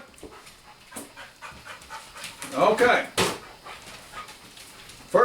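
A dog pants in quick, breathy bursts close by, with a louder whimpering or huffing stretch near the middle, while a person briefly speaks.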